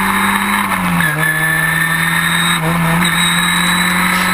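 Historic Formula Ford race cars racing at Silverstone in 2014, a loud onboard engine drone that holds steady, dips briefly twice as the revs fall and climb again, with no voices.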